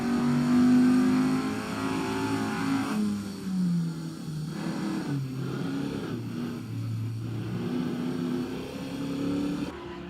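Open-wheeler race car pulling out of the pits at an SMSA championship meeting, its engine revving loud and near through rising and falling gear changes, with steady circuit engine noise behind.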